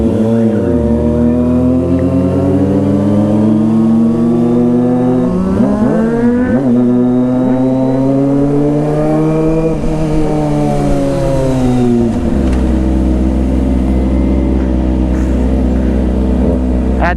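A Kawasaki ZX-25R motorcycle engine revs hard and close, its high-pitched inline-four wail climbing and falling through several sweeps before settling into a lower, steady idle.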